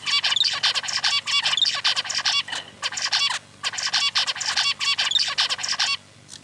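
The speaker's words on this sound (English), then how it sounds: "that's the zebra finch. Right, so that's a pretty typical bird song." A zebra finch sings a repeated song of rapid buzzy, chirping syllables in tight bursts, with a short pause before the phrase repeats, close and clear.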